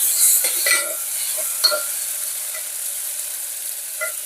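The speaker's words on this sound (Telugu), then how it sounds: "టమాటాలు బాగా వేగిపోయినాయి" Tomatoes and a green chili fry in a pan with a soft, high hiss, broken by a few light stirring and scraping taps.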